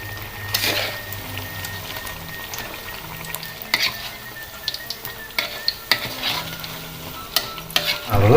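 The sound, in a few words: sorabi pancake frying in a pan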